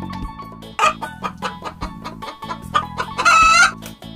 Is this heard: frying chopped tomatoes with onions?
no